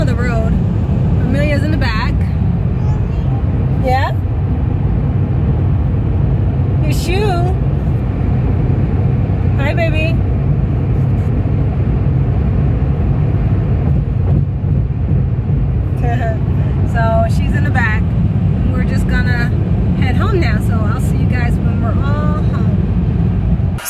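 Steady low road rumble inside a moving car on a busy freeway, loud and constant, with people talking over it throughout.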